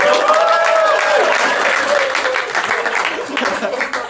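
Loud, dense applause fills a stand-up comedy club, with many hands clapping at once, then thinning slightly toward the end while voices and whoops rise from the crowd.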